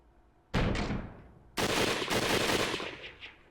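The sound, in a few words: gunshot from the entrance in Hakuoki video game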